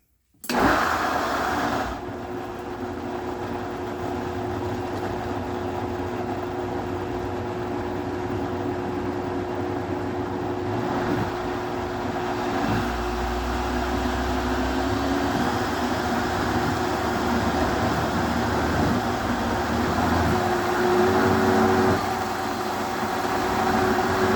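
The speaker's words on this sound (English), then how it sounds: "that Vitamix does its job" A Vitamix blender motor whirs loudly and continuously for a long stretch making apple butter, a steady high-pitched grinding drone that shifts slightly in tone as it runs.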